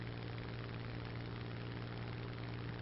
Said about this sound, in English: time to take out the trusty Hurricane